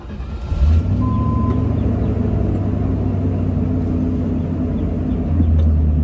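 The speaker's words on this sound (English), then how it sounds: "So I'm gonna fire it up and make sure that I don't have any misfires." A Land Rover Discovery 1 engine cranks and catches near the start, then settles into a steady, close, loud rumbling idle that swells slightly at the end.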